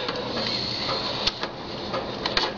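The carriage of an Epson P50 inkjet printer slid by hand across its rail gives a steady scraping whir with a few soft knocks, close and unbroken, without talk.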